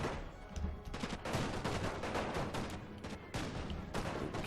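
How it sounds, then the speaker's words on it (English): Musket regiments fire rolling volleys in Napoleon Total War, a dense, continuous crackle of overlapping gunshots with a few sharper reports standing out, sustained and loud throughout. "This regiment is still firing at them"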